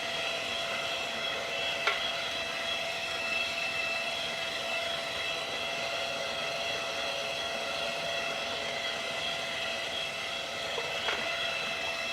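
Minced meat fries in a pan with a steady, close sizzle that holds evenly throughout, with a faint mechanical hum underneath and no talking.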